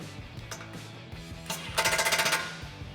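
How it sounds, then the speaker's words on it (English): A socket wrench ratchets a 17mm socket to tighten the nut at the back of a Jeep Wrangler bumper during a winch install: a quick, close run of sharp metallic clicks, with a few scattered mechanical knocks around it. "Using a 16mm wrench, hold the bolt head on the side of your roller lead and a 17mm socket. Tighten down the nut at the back of your bumper."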